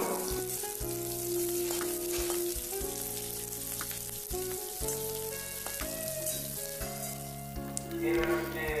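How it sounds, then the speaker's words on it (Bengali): Diced onions sizzle steadily in a pan over high flame for chilli egg, with soft stirring scrapes and background music throughout. "এবার দিয়ে দিচ্ছি ডুমু করে কেটে রাখা পেঁয়াজগুলো। পেঁয়াজগুলো দিয়েও আমি হালকা"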